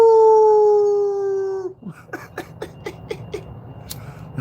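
A dog howls in a long, loud, wavering tone that fades after a second and a half, followed by a run of short, rhythmic yips and whimpers close by.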